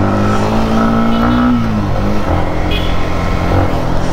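A one-month-old Yamaha MT15 motorcycle idling and revving up close, with a steady engine drone and a brief rising rev, no voices over it.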